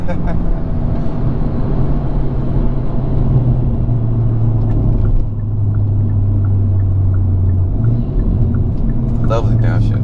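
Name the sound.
Hyundai Veloster N downshifting, engine revving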